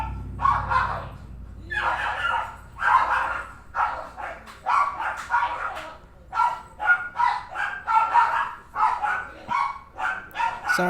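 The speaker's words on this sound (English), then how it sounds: "Sorry about my dogs." Several dogs bark repeatedly in loud, close bursts with yips and whimpers, an irregular volley of barking that runs throughout with little pause.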